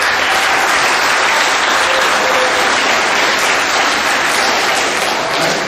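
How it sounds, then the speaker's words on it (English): Middle school awards assembly crowd applauding the 7th grade boys league champions, loud, dense clapping that fills the room evenly from start to finish with no talk over it. "Give them a round of applause."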